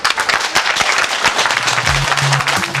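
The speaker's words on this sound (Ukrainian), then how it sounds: "Ось так під оплески своїх підлеглих" Dense applause from a college director's staff, steady and loud throughout, with a brief low voice or tone rising near the end.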